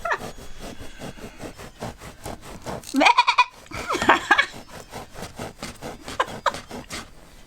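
A kebab knife saws and tears through sheep wool insulation, giving repeated rhythmic scraping strokes close to the listener, with a brief louder burst of fibrous ripping midway.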